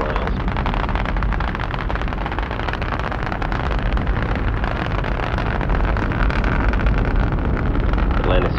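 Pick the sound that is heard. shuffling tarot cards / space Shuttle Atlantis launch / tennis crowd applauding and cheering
space Shuttle Atlantis launch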